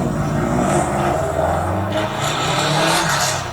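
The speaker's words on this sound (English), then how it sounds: "Let's see if it sounds any different from any other Subaru. Oh, he's got some big turbos on there." A turbocharged Subaru with big turbos runs in a steady, loud engine roar that stays continuous throughout, with a brief dip in the middle and faint tire-squeal character.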